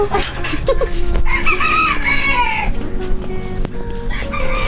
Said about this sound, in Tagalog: So ito yung sinasabi kong manok.